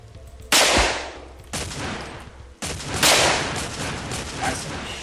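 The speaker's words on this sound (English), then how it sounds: "That's a machine gun." Machine gun fire in the video game Survivalist: Invisible Strain: several loud, close bursts of rapid gunfire, each cutting in sharply and ringing out with a rough, crackling tail.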